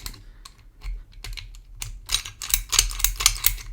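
Keys being forced into a Yale P21 disc padlock, producing a run of small metallic clicks and scrapes that grow busier and denser toward the end, close and fairly quiet.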